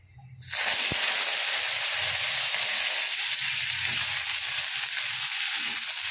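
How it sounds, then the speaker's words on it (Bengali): Potato pieces fry in hot oil tempered with cumin seeds, a steady, dense sizzle that bursts in abruptly and holds loud and even throughout, with no voices. "আলুগুলো ভালো করে ভেজে নিয়ে আমি ফেলে দেবো"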